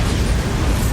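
The Bombarda spell explodes in Hogwarts Legacy, a loud, sustained, rumbling blast that fills the whole second with dense noise.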